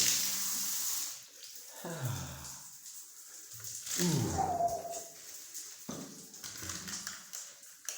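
Water tap running hot water in a home in Ghana after a water heater installation, the gushing flow starting and stopping in several bursts, fairly quiet and close.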